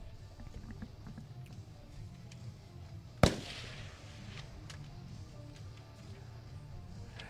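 An AX-308 7.62mm sniper rifle fires one sharp, loud shot at a live-fire exercise, followed by a short decaying echo over a low outdoor background rumble; no one speaks.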